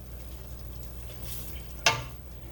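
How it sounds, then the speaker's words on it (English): Onions are stirred and fried in a pan for chicken parmigiana soup, with a soft, continuous sizzle and one brief utensil scrape or clink near the end. "Just keep stirring them around there."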